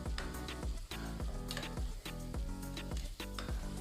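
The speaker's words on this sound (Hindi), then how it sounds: "इसको मैं अब डालूँगी और इसको 1 से 2 मिनट में भूनूँगी" Coarsely ground ingredients for beef korma roasting in a pan: a soft, steady sizzle with regular ticking scrapes as they are stirred, fairly quiet and close.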